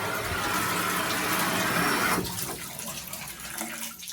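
A shower faucet runs at full flow right after a Moen 1225 cartridge is installed, producing a loud, steady hiss of water that then drops to a softer, uneven splatter.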